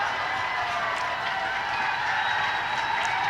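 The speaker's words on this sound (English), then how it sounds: "As the crowd gets into it again here" Crowd noise swells steadily at a high school football game between State College and PR at Hempfield Stadium, a broad continuous roar of cheering and clapping with no clear pauses.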